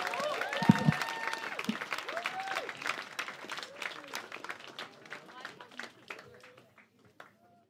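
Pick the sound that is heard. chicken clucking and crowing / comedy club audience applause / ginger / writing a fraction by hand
comedy club audience applause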